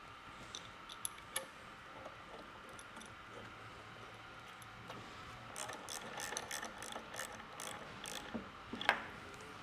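Ratchet clicking as light bar mounting bolts are snugged on a Sherpa roof rack of a Toyota 4Runner, faint and intermittent, with denser bursts of clicks toward the end.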